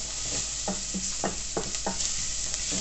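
Vegetables and chilli powder stirred around a pan for a winter chilli, a spoon scraping in repeated short strokes over a steady low sizzle, close and fairly quiet.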